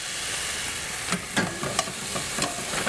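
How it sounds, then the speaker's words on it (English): Garlic and tomatoes sizzle and hiss steadily in a hot pan for marinara sauce, with a few clinks and scrapes of stirring cutting through. "A little sizzle. You got to hear that sizzle."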